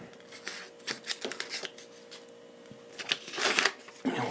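Scissors snip through a Post-it tab, giving a few close, crisp cuts and rustles of paper in short bursts with quiet gaps between.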